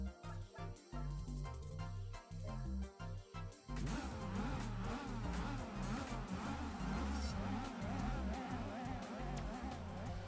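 Engine of a Speedster car on super soft tyres racing at Grand Valley in Gran Turismo 4, a revving drone with gear changes in the opening seconds, then a dense sustained roar at full throttle, with no talk.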